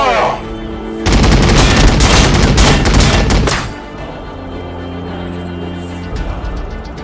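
Rapid heavy gunfire in Warhammer 40k: Battlesector, a loud dense burst of shots and booms lasting a few seconds before fading into a lower rumbling battle ambience with game tones.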